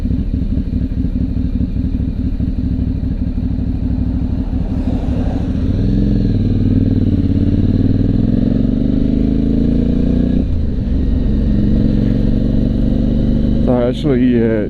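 An Aprilia Shiver motorcycle rides along a road, its engine droning steadily up close before rising and falling through revs, with wind noise and a brief clatter near the end.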